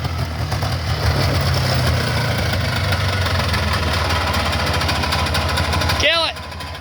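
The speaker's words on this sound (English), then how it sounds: "It's fine in reverse, but in low gear and high gear forward, it sounds like the gears are grinding." A Polaris 4x4 runs with a steady, rattling mechanical drone from grinding forward transmission gears, loud and continuous throughout, before it cuts off near the end amid a brief burst of other noise.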